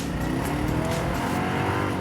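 A Mercedes E55 saloon smokes its tyres, a loud, steady tyre squeal blended with a roaring engine held at high revs, close and unbroken for the whole stretch.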